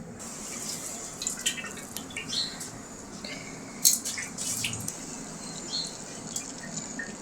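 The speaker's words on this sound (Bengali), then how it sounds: "এবার আমি ভালোভাবে ছেঁকে নেব।" Liquid drips and trickles steadily as a sugared rice paste is strained through a sieve, with faint intermittent splashes at close range and no voices.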